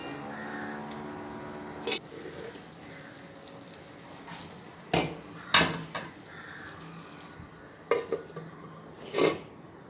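Fish added to a pan of curry with tomatoes during home cooking, a soft steady sizzle and frying hiss broken by several sharp clanks and splashes of stirring and handling, with no talking.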